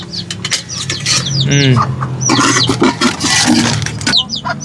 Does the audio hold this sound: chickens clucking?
yes